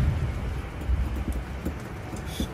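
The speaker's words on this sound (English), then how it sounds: "And it's raining now." Rain falling steadily outdoors, a soft continuous patter with low rumbling underneath and no one speaking.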